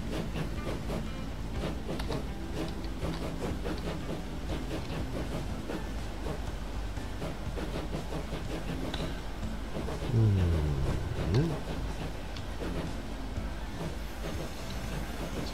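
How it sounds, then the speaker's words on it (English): A train runs steadily in the Transport Fever 2 game, carrying freight through an Italian route. It sounds like a continuous rumbling, clattering drone with a brief louder swell near the end. No one speaks. "This is the train."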